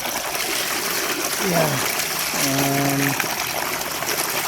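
A solar-powered submersible DC pump in Roxas, Isabela sends out water in a steady, loud rushing gush that runs through the whole clip, with a short spoken word over it.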